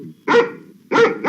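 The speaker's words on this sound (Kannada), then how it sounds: "ಈ ಬಂಗ್ಲೆ ತುಂಬಾ ನಾಯಿಗಳೇ ಇವೆ." Dogs in a bungalow, among them a Doberman, Alsatian, Pomeranian, Dachshund and Bulldog, barking loudly and close by, three sharp barks with short pauses between them.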